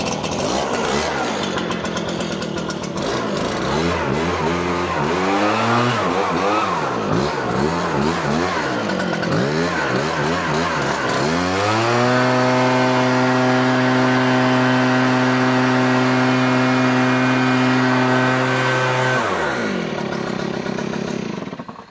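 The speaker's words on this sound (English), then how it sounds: "We're going to fire up the Husqvarna." Husqvarna 590 BTS backpack leaf blower being started with a button push and choke, loud sputtering and revving at first, then settling into a steady, powerful high drone that runs close and unbroken before cutting off.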